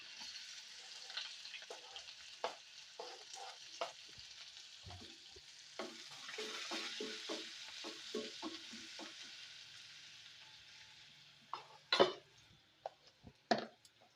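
Garlic, green chillies and onions frying in a small amount of oil on a stove give a continuous close sizzle, broken by scraping and stirring clatter, with a few sharper clinks of the utensil near the end.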